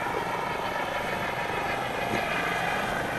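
Steady, continuous helicopter rotor and turbine drone from a video game search and rescue training flight over Croatia, loud and unbroken throughout with no talk.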